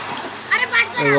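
Children swimming in a pool beneath a mini waterfall at Vennemuddala Gandi make quick, close splashes, two bursts of splashing mixed with children's voices talking.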